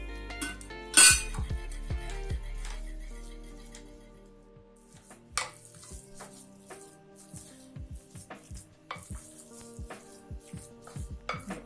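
A spoon clinks against a bowl while spices are stirred into a stuffing mix, with one loud clatter at the start and then irregular light taps and scrapes.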